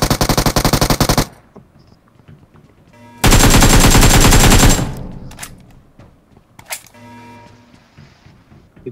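Loud bursts of rapid automatic gunfire in PUBG Mobile's Mecha Fusion mode, one short and one longer sustained volley, separated by scattered clicks and single shots.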